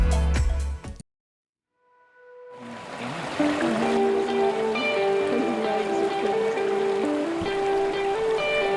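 Creek water flows in Frijoles Canyon at Bandelier, New Mexico, a close, continuous rush and trickle with tonal burbling that begins after a brief silence and then holds steady.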